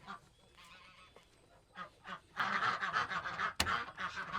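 A flock of geese and ducks on a farm is let out of their pen, starting with scattered honks and then breaking into loud, overlapping honking and quacking close by, with no talk.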